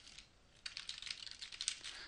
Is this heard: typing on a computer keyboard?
yes